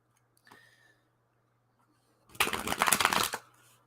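Tarot cards give a small flick, then after a pause a close, crisp burst of riffled shuffling lasting about a second, with faint rustle trailing off.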